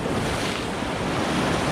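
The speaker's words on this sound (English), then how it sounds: "This little bay is absolutely beautiful." Waves wash steadily into a small, pretty bay, a continuous close surf hiss with wind noise and no pauses.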